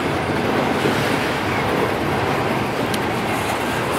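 An Amtrak passenger train passes a Norfolk Southern freight, giving a steady, close rumble of rolling rail cars with a dense wash of noise throughout.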